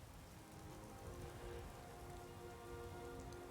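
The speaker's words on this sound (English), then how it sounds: "mysterious, rainy day," Rain falling in the video game Skyrim on a gloomy day, a soft, steady patter of drops on surfaces that hisses evenly throughout and stays faint, with no talk.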